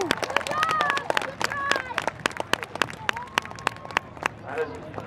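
Fans at a tractor pull at the Washington County AG Center in Maryland clapping and cheering outdoors, scattered sharp claps over crowd chatter, with a voice talking through it.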